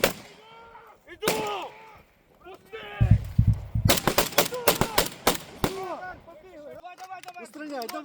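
Gunfire at a border unit's shooting training: loud, sharp shots in quick irregular bursts, with shouted voices before and after the firing.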